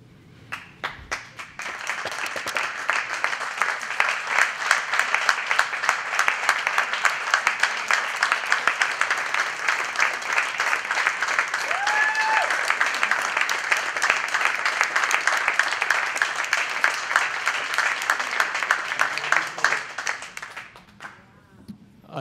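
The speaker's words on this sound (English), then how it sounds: "I didn't even have to ask you to applaud them" A large audience gives sustained, dense applause for World War II veterans standing at a lecture forum, steady and loud for about twenty seconds before fading out.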